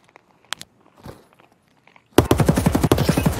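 Rifle fire in the Escape From Tarkov video game breaks out as a loud, rapid automatic burst after a quiet stretch of faint footsteps and small clicks.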